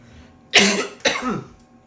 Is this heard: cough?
yes